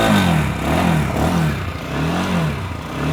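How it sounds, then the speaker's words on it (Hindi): A Lifan KPM 200 motorcycle's exhaust revving in a few rising and falling blips over a steady, fairly quiet engine note, close by and with no talking. "अब मैं आपको इसके एग्जॉस्ट साउंड सुनाऊंगी"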